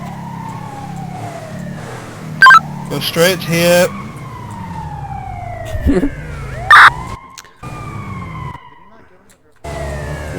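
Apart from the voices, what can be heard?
police escort vehicle sirens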